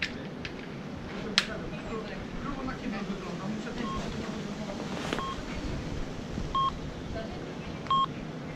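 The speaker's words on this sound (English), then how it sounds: "That is the transmission from a beacon that can be placed in the cave" A cave radio beacon transmission gives short electronic beeps, a few clipped tones spaced irregularly over faint hiss and low background noise.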